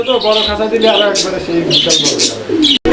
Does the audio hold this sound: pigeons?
yes